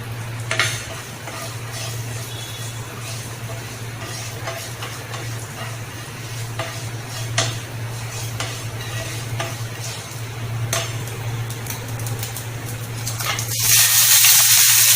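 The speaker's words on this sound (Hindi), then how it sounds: "गरम होने के बाद 1 चम्मच राई डालनी है और 1 चम्मच जीरा डालना है।" Mustard seeds and cumin crackle and sizzle in hot oil for matar paneer, with continuous stirring scrapes and scattered sharp pops close by, and a steady low hum running underneath throughout.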